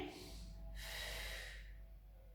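An audible inhalation during a Pilates exercise, a single drawn breath rising to a broad airy hiss in the middle and then easing off, close and fairly soft with no talking.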